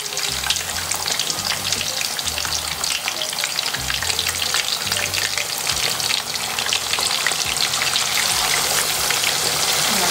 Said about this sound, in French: entre temps, j'ai fait chauffer en fait l'huile du poisson.